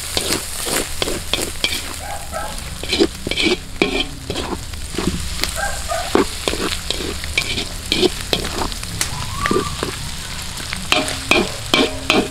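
Lechon sisig sizzles and crackles steadily as it fries outdoors, with repeated sharp scraping stirs of a metal utensil against the pan punctuating the continuous hiss.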